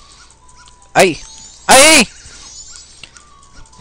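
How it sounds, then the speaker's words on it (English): Dog from the video game Majora's Mask lets out a couple of sharp, whimpering yips in quick succession, the second longer and louder, with a person briefly shouting over it. "You stupid dog! Get away from me!"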